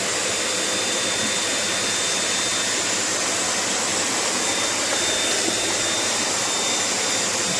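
A Eureka Forbes vacuum cleaner runs over a carpet with a loud, steady, unbroken roaring drone and no talking throughout.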